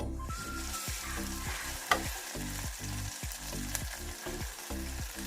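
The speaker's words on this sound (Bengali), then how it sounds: "ভালো করে মশলাটা কষিয়ে নিতে হবে।" Ginger-garlic paste with salt, chili powder, cumin and coriander powder fries in a pan, a steady close sizzle broken by repeated scraping strokes of a spoon stirring the spices.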